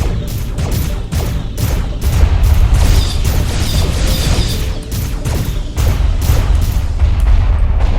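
Enemy ship blowing up in the space combat game Starpoint Gemini 2, loud rumbling booms layered over rapid repeated weapon fire, a dense, continuous barrage of crashing blasts close up.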